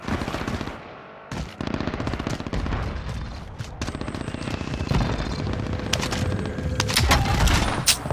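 Video game shooter gunfire crackles in dense, rapid bursts of automatic fire, near and loud, with barely a pause from start to end and sharp single cracks mixed into the later stretch.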